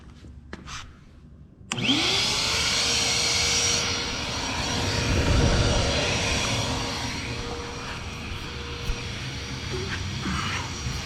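A vacuum cleaner switched on as a blower to push air into a car's exhaust system for leak checking starts with a sharp whine and keeps a steady, close, loud motor roar.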